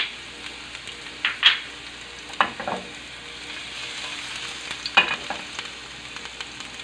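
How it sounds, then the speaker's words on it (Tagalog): Chopped garlic dropped into hot cooking oil sizzles and crackles steadily, with a few sharper spatters and stirring clatters standing out over the constant fry. "mainit na po yung mantika natin. So, ilagay na natin itong bawang"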